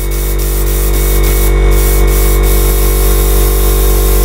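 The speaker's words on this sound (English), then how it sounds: "So I'm just spraying a little bit of thinner through my airbrush." An airbrush sprays thinner with a loud, steady hiss over a low air-compressor hum, broken by a few short sharper bursts.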